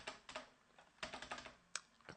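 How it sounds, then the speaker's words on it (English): Keys clatter on a computer keyboard in irregular quick bursts with brief pauses, close and quiet in an otherwise silent room. "I just keep on typing in slashes instead of backslashes"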